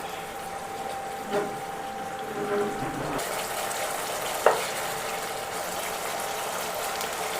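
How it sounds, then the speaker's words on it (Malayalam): The leftover masala sizzles as it fries in hot oil, a steady, close crackling hiss with a couple of brief stirring knocks. "ഇനി ആ എണ്ണയിൽ ഈ ബാക്കിയിരിക്കുന്ന മസാല കൂടെ നമുക്കതിലേക്ക് ചേർത്ത് കൊടുക്കാം മസാല ഒന്ന് നമുക്കൊന്ന് ചെറുതായിട്ടൊന്ന് മൂപ്പിച്ചെടുക്കാം"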